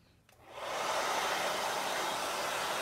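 A hair dryer blows on chalk paste over a Chalk Couture box frame, switching on after a brief click and then roaring as a loud, steady airy hiss close by.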